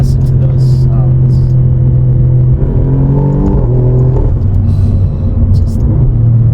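The Alfa Romeo Giulia Quadrifoglio engine revs in loud, rising and falling surges over a deep running rumble, heard up close while a person talks over it.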